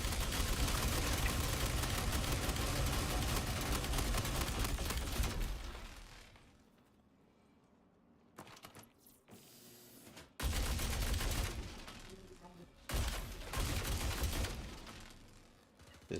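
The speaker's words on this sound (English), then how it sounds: "Can hear a sniper rifle." Dense rapid gunfire fills a video game firefight on Halo's Onyx map, sustained loud bursts that cut out into near silence, then return in several heavy volleys with sharp single cracks between them.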